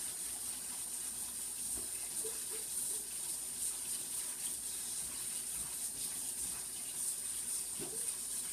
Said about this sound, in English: if you rinse your pasta after you cook it, it won't stick together.